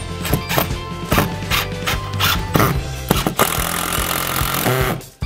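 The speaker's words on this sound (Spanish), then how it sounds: "Como usted puede oír la vibración del taladro, está agarrando duro en la..." Power drill drives a screw into a 2x4 for a wall TV mount, loud close rattling and grinding bursts with short pauses, then a longer steady run near the end.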